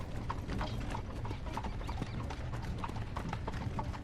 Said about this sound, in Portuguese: a diretora escolhe não por acaso colocar o som de pássaros e de cavalos novamente